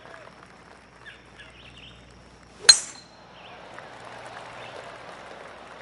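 A single sharp metallic click of a golf club driving the ball off the tee in PGA Tour 2K21, crisp and close, set against a quiet ambient course backdrop with faint birdsong.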